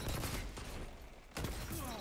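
A hand cannon fires in a video game: two heavy, booming shots over a second apart, each followed by a rumbling tail, heard fairly faint.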